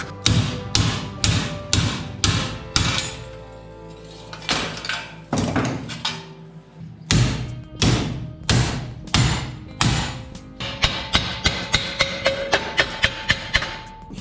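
Hammer blows strike a steel L-shaped profile being shaped as a reinforcement on an Opel Manta A chassis, loud repeated metallic taps in rapid bursts with short pauses, speeding into a dense flurry of quicker hits near the end.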